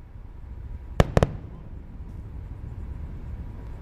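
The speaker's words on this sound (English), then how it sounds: "the sound of the sonic booms just making their way to us here at the press site" Three sharp, booming cracks of sonic booms from a SpaceX Falcon 9 booster, B1085, landing at the landing zone after the Crew-9 launch, heard from the press site, followed by a quiet low rumble of open-air background.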